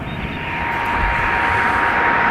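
A wide-body Airbus A330 moving on the ground at Dublin Airport, either taxiing or under tow, gives a steady, fairly loud broadband engine roar with a faint whine that swells slightly over a couple of seconds and holds alone.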